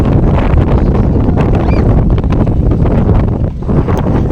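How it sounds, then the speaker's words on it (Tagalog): Strong wind buffets the microphone with a constant, loud, roaring rush that barely lets up. "Lakas ng hangin oh."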